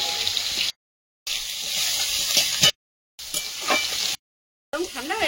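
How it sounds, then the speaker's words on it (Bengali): Shrimp and vegetables sizzle in a hot pan for a Bengali home-cooked dish, a loud close steady crackle broken by brief silences, with stirring scrapes near the end. "এবার চিংড়িটা দিয়ে ওর সঙ্গে ভেজে নেব।"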